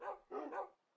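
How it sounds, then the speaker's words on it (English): Two or three quick, faint barks from Minecraft dogs, the tamed wolves of the game, come in a short burst and then fade to quiet. "We got two dogs."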